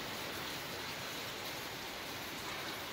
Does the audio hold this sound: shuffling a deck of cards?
no